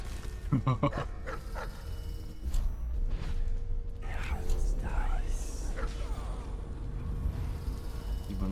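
A dog in the video game Dishonored barks in a few quick bursts early on, then growls low amid busy game ambience and buzzing insect-like noise.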